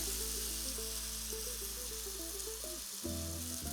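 Venison backstrap sizzles in a hot stainless steel pan, a steady, fairly quiet frying hiss with a brief clank near the end.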